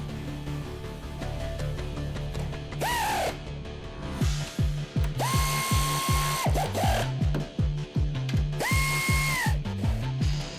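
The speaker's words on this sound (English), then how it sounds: "tighten the 3 upper mounting plate bolts" A ratchet clicks rapidly and rhythmically, close by, tightening the three upper strut mounting plate bolts on a 2004 Ford Taurus SES, broken by several whirring bursts from a power tool between runs.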